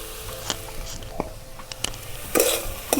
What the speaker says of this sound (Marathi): मस्त असं हलवून घ्यायची